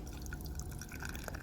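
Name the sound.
grapefruit IPA beer being poured from a can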